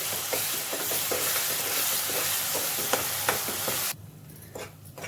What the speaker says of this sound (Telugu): మొత్తం మిక్స్ చేసుకుంటున్నాను ఒకసారి